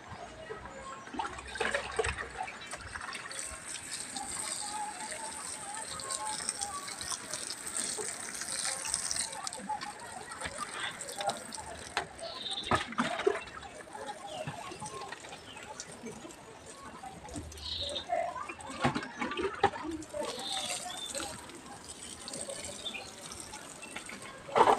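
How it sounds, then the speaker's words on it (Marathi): Water poured over young fenugreek plants in a home planting setup, a steady splashing gush running through most of the stretch with brief louder bursts, recorded close with no talk over it. "आता मी याला जरा पाणी टाकताय."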